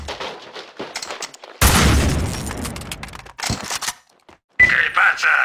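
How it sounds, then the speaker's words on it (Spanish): Gunfire from the video game Max Payne 2 rings out as sharp bursts and a loud, sustained volley, separated by brief quiet gaps, with other game sounds in between. "¡Mira, se oyen disparos!"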